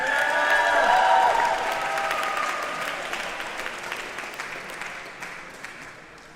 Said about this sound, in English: Let's have another round of applause for our bachelor's degree recipients.